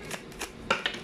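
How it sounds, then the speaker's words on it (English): Egyptian tarot cards are shuffled by hand, four quick papery riffles in about a second, close and moderately loud with no talking. "Let me just shuffle more."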